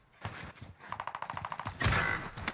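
Gunfire in the Warzone video game: a quiet, distant rattle of rapid shots ending in a louder, fuller blast, with no talk over it.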